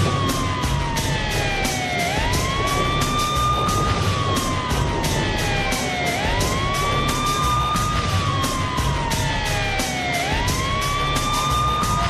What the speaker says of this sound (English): And you can hear the sirens already.